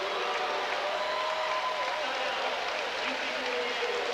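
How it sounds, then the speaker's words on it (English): A college volleyball crowd in a gym applauds for several seconds, a steady wash of clapping with a voice talking over it throughout. "the crowd in Clum applauds the play by both sides"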